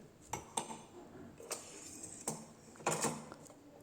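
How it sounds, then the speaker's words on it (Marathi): Carrots and beetroot are peeled and chopped into small pieces for juice, giving scattered sharp knife clicks and utensil clinks against a board or dish, close and fairly quiet, with irregular gaps between strikes. "गाजर बीट सोलून त्याचे बारीक तुकडे करून घेत आहे"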